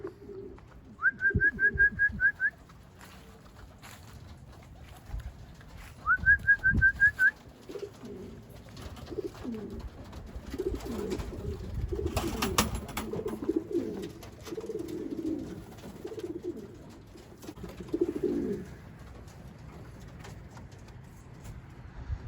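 Pigeons coo at a loft where rollers and other breeds are kept, with two clear bursts of soft cooing early on, then a steady murmur of birds, wing flutter and handling noise close by.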